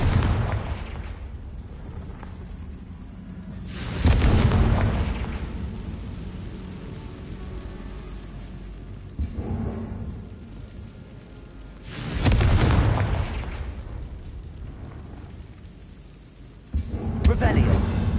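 Blasting-curse explosions from the Confringo spell in the game Hogwarts Legacy: four deep, rumbling booms at uneven intervals, each decaying slowly, with quieter ambient rumble in between.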